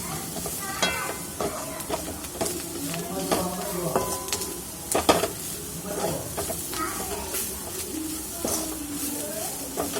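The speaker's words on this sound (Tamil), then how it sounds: "இப்போ நம்ம இதை நல்லா வதக்கி விட்டுக்கலாம்." Broad beans tossed with spice powder in a pan give a soft continuous sizzle with scattered stirring scrapes and clinks of a utensil, moderately close, with faint bird calls in the background and no speech.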